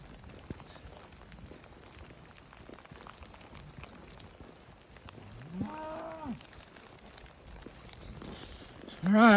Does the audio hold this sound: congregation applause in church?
no